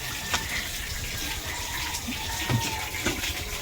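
A dipper scoops and pours water during lambanog making, giving a running, splashing gush with a few sharper pours and sloshes close by.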